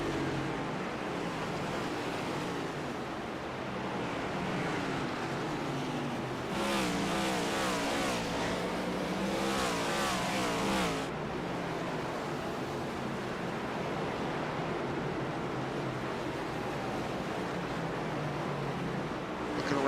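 Race cars run laps at North Wilkesboro Speedway, where a steady, distant engine drone fills the air. A louder pass swells through the middle, and a faint voice sits under the noise.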